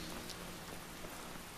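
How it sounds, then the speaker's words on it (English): Steady rain falling in the fantasy role-playing game Skyrim, a soft, even hiss of drops with no pauses or talk, fairly quiet throughout. "Because I love the sound of rain."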